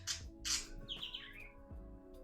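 A game bird chirps in a few bright, quick tweets and a short warbling phrase, fairly close, set against a low steady hum from the game.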